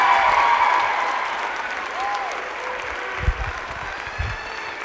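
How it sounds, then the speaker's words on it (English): Audience at an elementary school winter choral concert applauding the fifth grade choir, a dense steady clapping that gradually thins, with a faint voice and a couple of soft thumps near the end. "Another round of applause for our fifth graders."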